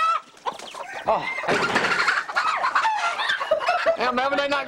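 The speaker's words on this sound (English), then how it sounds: "There's about 10 of those roosters." About ten roosters cluck and squawk in a busy, overlapping chorus close by, with sharp calls rising above continuous farmyard chatter.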